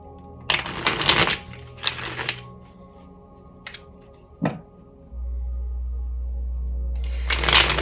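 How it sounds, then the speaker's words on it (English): A deck of tarot cards shuffled by hand in quick riffling bursts, close and crisp, separated by short pauses and single taps, with a low steady hum entering partway through. "I'm gonna give it a shuffle"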